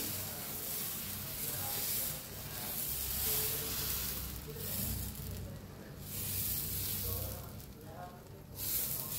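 Moong dal batter sizzles on a well-heated griddle over a gas flame, a broad continuous hiss that swells and eases in waves, with no speech over it.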